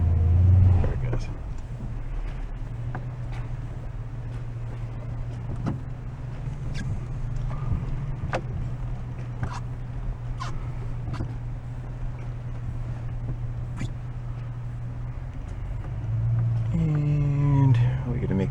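A pickup truck creeps along in two-wheel drive, fitted with a front-mounted trailer hitch, its engine holding a steady low drone with scattered faint clicks and knocks, swelling into a brief rising whine near the end, with muffled voices at times.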